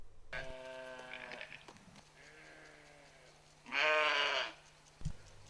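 Goats on a farm bleat several times, with nanny goats noted: wavering calls near the microphone, one loud drawn-out bleat toward the end, over a low steady hum.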